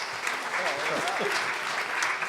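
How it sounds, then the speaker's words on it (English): An audience at a Kansas City mayoral primary debate applauds the participants with a continuous wash of clapping, while a voice speaks over it. "do these ladies and gentlemen deserve a round of applause for their fortitude?"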